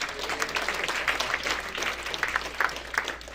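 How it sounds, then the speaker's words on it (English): Applause at a graduation ceremony, a crowd's clapping that flutters in loudness with individual sharp claps standing out, moderately close and unbroken by speech. "Another round of applause."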